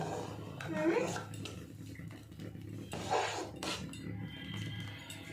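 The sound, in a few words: scrubbing and washing dishes by hand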